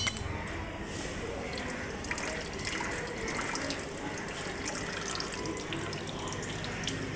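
Water pours steadily onto a Shiva lingam, a continuous close splashing trickle without pause.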